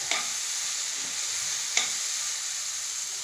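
Steady hiss of a tempering sizzling in hot oil with coriander leaves added for moong dal sambar, with two sharp scrapes of a spoon stirring it, one near the start and one midway.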